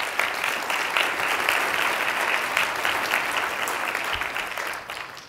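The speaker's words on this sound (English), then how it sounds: "Let's give everybody a round of applause." A conference audience breaks into sustained applause at a tourism industry event, the dense clapping steady and full for about five seconds before thinning slightly at the end.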